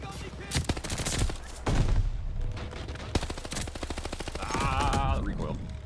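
Gunfire fills a Call of Duty Vanguard multiplayer match, with rapid automatic bursts and sharp single shots in quick succession, loud and close with brief pauses between volleys.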